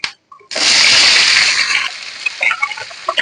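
Chopped vegetables go into hot oil in a pan while making red amaranth stem curry, giving a sudden loud sizzle that settles into a steady frying hiss with small crackles and pops.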